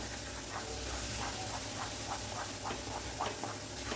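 Scrambled egg burji frying in a pan on low heat produces a constant soft hiss, with faint regular scraping taps of a spatula repeating through it, no voices.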